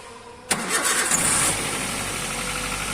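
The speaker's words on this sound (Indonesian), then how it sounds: "Mobil starter AC jalankan." A Toyota Avanza's engine cranks on the starter and catches after a half-second of quiet, then settles into a steady, fairly close idle.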